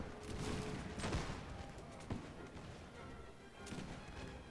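Musket volley from massed troops in a Napoleonic-era battle game, heard as a rolling spread of distant, muffled shots with a couple of sharper cracks, faint overall and partly blurred into battlefield noise.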